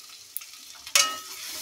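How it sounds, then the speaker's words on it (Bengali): Spice paste frying in a pan with a little turmeric, giving a sudden loud sizzle after a faint clink, then a steady hiss as the masala cooks. "দেখো পছন্দ করে ভাজা হয়ে গেল মশলাটা"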